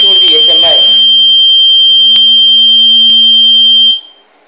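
A home security system's smoke alarm, set off by a lit match, sounds a high, steady electronic tone continuously for several seconds, with brief clicks, after a moment of background chatter, then cuts off.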